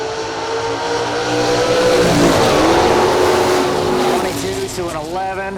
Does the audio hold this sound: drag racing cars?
yes